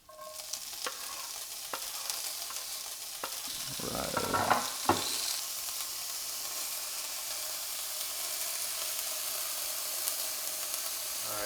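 Morel mushrooms sizzle steadily in a hot pan, a close, continuous frying hiss with a few sharp crackles and stirring clatters early on, no voices.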